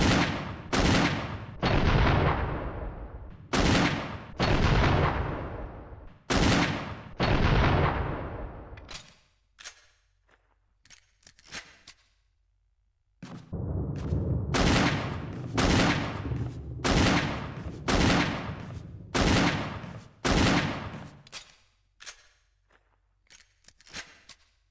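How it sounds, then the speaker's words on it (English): Heavy booming shots from a .357 Magnum revolver in Resident Evil REmake ring out one at a time with long decaying tails, a slow steady series of loud blasts separated by short gaps. "The gun fires 357 Magnum rounds."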